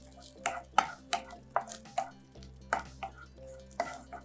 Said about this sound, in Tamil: பூண்டு ரொம்ப வதக்க வேண்டாம், லேசாக ஒரு வதக்க